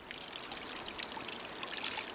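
Wild mushrooms being rinsed in water drawn from a mountain well out in a rural field, giving a steady close splashing and trickling that runs for the whole moment with no talk.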